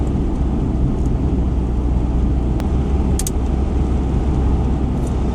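Steady road roar of a Citroën XM cruising at 60-70 mph, a constant broadband rumble of tyres and wind with a few faint ticks, no voices.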